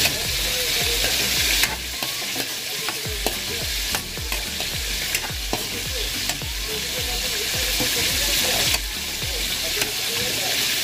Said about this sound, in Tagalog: Pakatasin natin yung kamatis para yung sabaw ng ating sarsyado medyo mamula-mula siya.